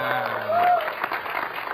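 A studio audience at an Indonesian talk show breaks into a short burst of applause, a crowd of hands clapping under a speaking voice, moderately loud and brief.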